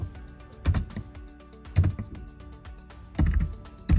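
Computer keyboard typing while entering a Python print command: scattered clusters of key clacks and thumps at close range, irregular with short pauses, no talking.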